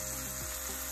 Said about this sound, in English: You can hear the beautiful sizzle in the background.